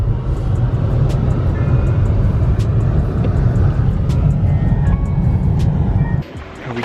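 A little front-wheel-drive car pushes through deep snow on a white stormy day, its engine droning loud and steady for about six seconds with faint clicks on top before it drops away abruptly near the end.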